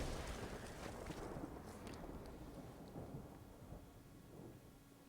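Thunder sound effect from a Lightning Strike card cast in the MTG Arena digital card game: a broad low rumble with a loud onset that slowly fades and trails off, with no voices.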